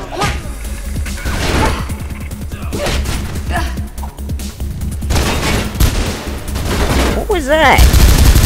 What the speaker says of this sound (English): Shooting at the wall does nothing for you.